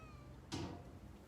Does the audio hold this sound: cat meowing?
yes